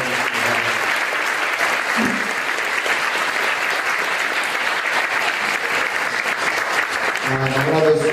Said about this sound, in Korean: 우리 큰 박수로 다시 한번 감사드리겠습니다.